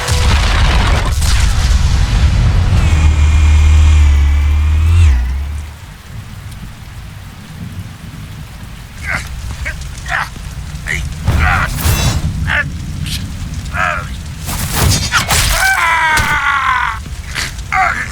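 Explosion in the Batman Telltale Series video game, a heavy, loud rumbling burst with crackling debris over sustained noise and music, followed by scattered impacts and a game voice.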